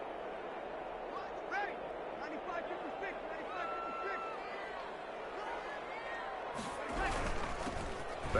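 Stadium crowd in the Madden 21 football video game, a steady roar and babble that swells near the end, heard under continuous commentary.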